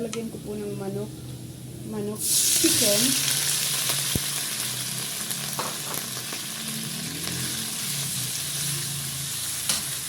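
Food frying in a pan until golden brown gives a loud, steady hissing sizzle that starts abruptly after a few seconds of voices and continues close by, with faint talk and small knocks underneath.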